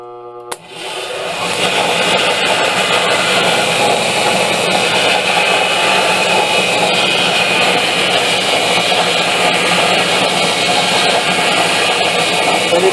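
A three-phase electric motor running on a single-phase supply with a start capacitor switches on after a click, quickly spinning up into a loud, steady whirring hum that holds at constant pitch with no speech.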